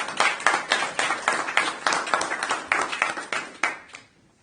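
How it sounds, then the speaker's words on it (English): Applause at a city council meeting, a small group clapping in a steady run of distinct claps for about four seconds before it stops abruptly, fairly loud in an indoor chamber. "all right, one last round of applause."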